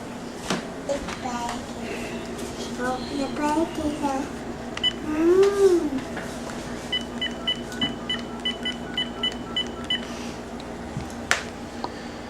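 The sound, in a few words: dialing a phone to call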